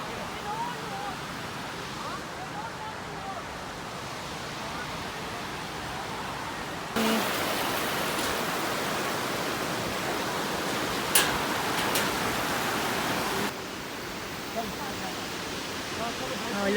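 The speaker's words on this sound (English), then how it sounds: "Oh, look at the waterfall." Steady broadband rush of Fangarai Falls, a 26.3-metre waterfall on a New Zealand river walk, growing louder and nearer midway before easing back, with a voice talking over the roar.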